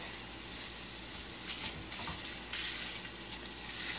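Hot sausages sizzle in a pan as they cook, a steady broadband crackle and hiss with a few louder spits, close and continuous, with no voices.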